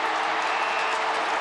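A stadium crowd at an Australian football match in Essendon v West Coast Eagles applauds a Bombers win, a dense, steady wash of clapping and cheering that fills the whole moment with no pause.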